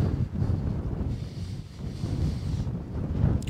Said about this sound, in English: There's a little bit of wind up here